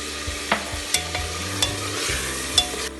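Onion paste with cumin fries in a pan, giving a soft continuous sizzle punctuated by sharp clicks and scrapes of a spoon stirring against the metal, close up with no talking.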